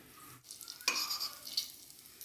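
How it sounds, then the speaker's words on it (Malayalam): Half a teaspoon of mustard seeds spluttering in hot oil in a pan for a curry, a steady close crackling sizzle that bursts louder partway through and keeps popping to the end. "എണ്ണ നന്നായിട്ട് ചൂടായത് 1/2 ടീസ്പൂണ് കടുക് കണ്ടോ, അതിനെ എന്നിട്ട് നമുക്ക് പൊട്ടിക്കാം."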